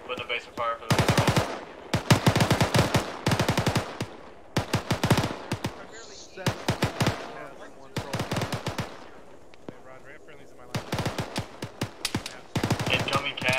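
Machine guns laying down a base of fire during a military field training exercise, with repeated loud close bursts of rapid shots separated by short pauses, and faint voices in the gaps.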